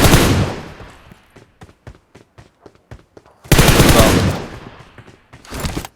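In the PUBG video game on the Livik map, M4 rifle fire comes in loud, dense bursts and scattered single shots, with a long automatic burst midway and another short burst near the end.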